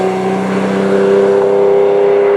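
A Ferrari Testarossa flat-twelve engine revs up close and loud, a steady rich drone with strong harmonic tones holding high for the whole stretch, no talk over it.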